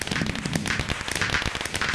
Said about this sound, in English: Firework.